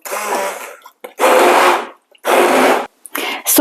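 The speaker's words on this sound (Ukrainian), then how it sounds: "І ще раз його перемішаю і будемо збивати е, погружним блендером." An immersion blender whirs loudly in three long, steady bursts separated by short pauses, close up, blending potato cream soup.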